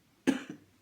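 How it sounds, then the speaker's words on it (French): A single short, close cough from a person with allergies, a sharp burst followed by a softer second catch, in an otherwise quiet room. "j'ai toujours mes petits problèmes d'allergie, donc je renifle, je tousse"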